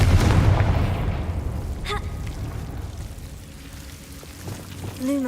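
Confringo blasting spell in Hogwarts Legacy on PS5, a deep rumbling boom that rolls off into a long fading wash, with a few brief tonal game effects near the end.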